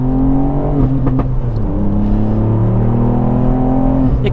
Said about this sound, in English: the way this car just rattles through the revs